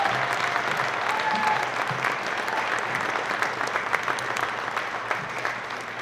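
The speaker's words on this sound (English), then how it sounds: "Ladies and gentlemen, our President and CEO, Mr. Fred Friedman." Applause from an audience filling a corporate 50th anniversary event hall as the president and CEO is introduced, a steady dense clapping wash that holds for several seconds without any speech over it.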